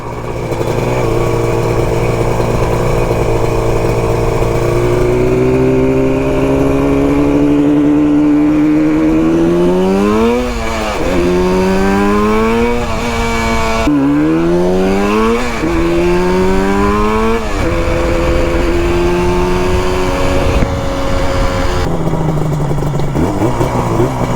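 Yamaha RD350 cafe racer two-stroke motorcycle engine idling loudly up close, then revving in repeated rising and falling bursts, pitch sweeping up and dropping back several times.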